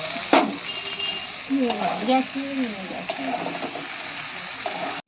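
Boiled potatoes fried and stirred into spiced onion in a pan, a steady sizzle with scraping spatula strokes near at hand, a few clunks, under light voices in the background.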